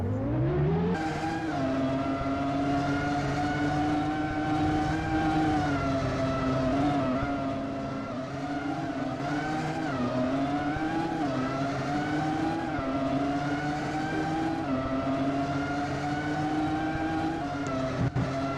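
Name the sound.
race cars driving in Roblox Formula 1 video game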